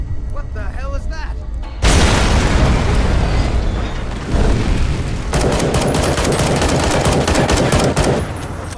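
A massive explosion erupts in the Fallout New Vegas The Frontier video game, a sudden loud blast followed by sustained rumbling debris and crackling bursts, after a brief spoken line.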